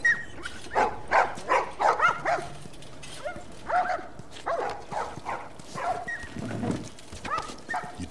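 Dogs in The Last of Us Remastered bark and yip in a video game scene, with repeated barks in short clusters, some whimpers and yelps, moderately close over a low background.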